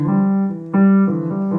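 Sustained piano chords played through a digital piano's small built-in speakers, full and resonant, with a brief dip before a louder chord rings out.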